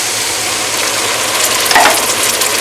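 Canned diced tomatoes with no salt added pour into a pot of cooking peas, giving a steady loud sizzle and stirring hiss with a brief splashy swell near the end, no talking.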